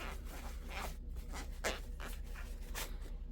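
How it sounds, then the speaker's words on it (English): Alcohol-soaked paper towel rubbing chrome nail powder off fingernails, a soft, steady scratchy wiping with repeated brief strokes, close and quiet with no talking. "I'm going to wipe the chrome powder off. This is just a paper towel with some alcohol on it."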